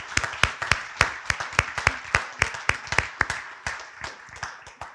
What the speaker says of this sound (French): donc une grande main d'applaudissements pour leur travail